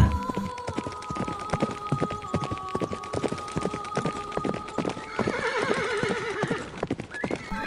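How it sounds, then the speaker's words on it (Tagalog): Four horses arrive with brisk, continuous clip-clopping of hooves, loud and close, while a horse whinnies partway through. "Nang nakarating na ang 4 na kabayo sa kinaroroonan ng 4."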